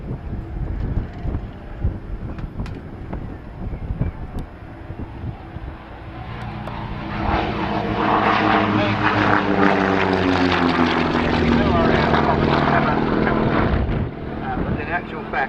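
A Provost propeller aircraft flies past at an evening air display, its engine drone swelling to a loud, steady roar over wind noise, with faint distant voices early on.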